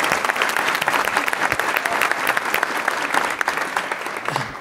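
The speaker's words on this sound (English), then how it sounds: "Let's give them a big round of applause." An audience at a mayor's business round table gives loud, steady applause, many hands clapping densely and continuously from start to finish.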